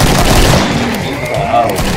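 Gunfire in the Killing Floor video game, loud and sustained with booming shots blended into heavy game noise.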